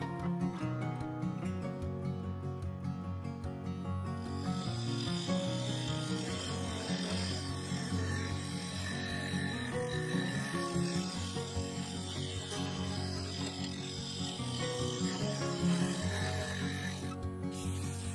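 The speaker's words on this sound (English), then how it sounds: "Then I used a small negative rake scraper to blend and fair the surface." A small negative rake scraper smooths a spinning sapele wood vase with a black resin midsection on a woodturning lathe, giving a steady, close, continuous rasping scrape over the motor's hum throughout.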